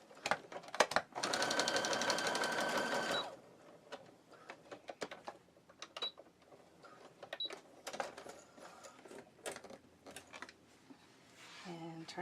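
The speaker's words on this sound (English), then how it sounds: "And then we're going to just sew that in place." A sewing machine stitching polka dot and animal print fabric for swim straps runs in a loud steady whirring burst for about two seconds, then stops, followed by scattered close clicks and fabric handling.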